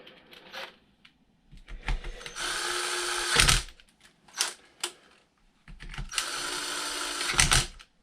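A power drill drives screws on the front differential of an HPI Savage Flux RC truck, giving two loud sustained whirring runs separated by clicks, taps and short bursts of handling.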